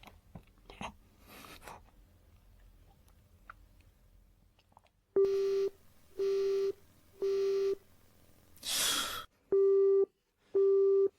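A telephone busy signal from an unanswered call, a steady sequence of evenly spaced, loud beeping tones after a stretch of quiet chewing and rustling, with a brief burst of noise between the beeps.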